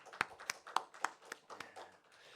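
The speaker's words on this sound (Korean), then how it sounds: "박수를 올려드립니다" A congregation at a Korean afternoon praise worship service claps in unison. About eight crisp, evenly spaced claps land in a steady rhythm, then trail off.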